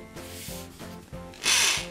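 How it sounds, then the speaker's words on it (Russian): A power drill whirs in short bursts, spinning up louder near the end as it bores a hole for a ceiling curtain rail, with no voices. "Сверлим отверстие"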